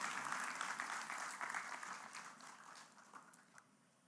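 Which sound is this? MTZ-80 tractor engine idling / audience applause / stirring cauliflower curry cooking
audience applause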